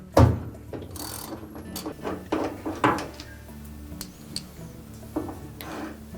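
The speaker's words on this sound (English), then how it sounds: "So we'll remove that 7/16 bolt that secures that drive block to the transmission." A wrench works loose a 7/16 bolt holding the agitator drive block to the transmission of a GE washer, giving scattered metallic clicks and ratcheting knocks with short pauses between them, fairly close.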